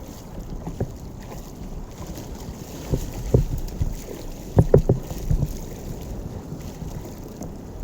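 Onshore wind gusts buffet the microphone at a beach during paddleboard surfing, a low rumbling roar with a few sharp thumping bursts midway and water sloshing underneath.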